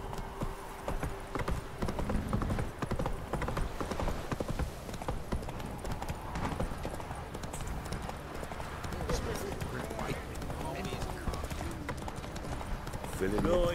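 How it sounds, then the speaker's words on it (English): Horse hooves clip-clopping steadily in The Witcher 3 video game, a continuous rhythmic trot heard close under game dialogue, with a faint whinny near the end. "Whoa there, Roach."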